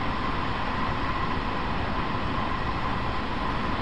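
A Long Island Rail Road train rolls along with a steady, loud rumble and hiss, a continuous ride noise with no breaks.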